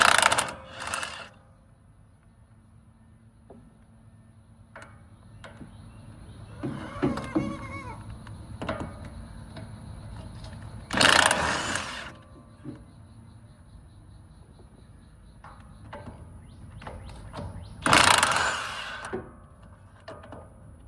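Tires come off a junk boat trailer in a workshop: loud bursts of an impact wrench spinning lug nuts, ratcheting and clanking metal, and scattered clicks over a steady background hum.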